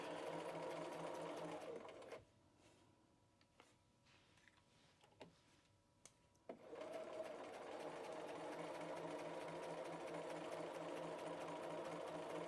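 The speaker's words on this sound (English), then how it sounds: "keeping my presser foot lined up so that I know I have a nice even 1/4 inch seam all the way around" Sewing machine stitching a quarter-inch facing seam in fabric, a loud steady mechanical whir that stops for a few seconds midway, leaving faint clicks, then resumes and runs continuously to the end.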